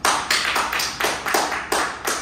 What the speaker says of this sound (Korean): 야, 박수 한번 치겠습니다